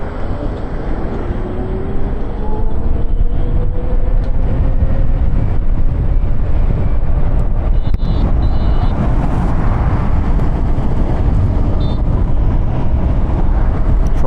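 An Ola S1 Pro electric scooter ridden at full throttle, heard as a loud constant rush of wind buffeting close to the rider, a faint rising whine underneath, and occasional small clicks.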